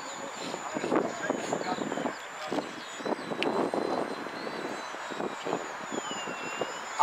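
A model airplane engine whines thinly and steadily at an outdoor international model aircraft picnic in Rybnik, partly buried under constant announcer talk and crowd noise.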